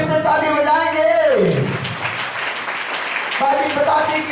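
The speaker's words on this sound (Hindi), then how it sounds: "एक बार फिर से ताली बजाएंगे।" A church congregation at a Hindi-language service claps together in a dense burst of applause. A preacher's voice is heard just before the clapping and again as it fades.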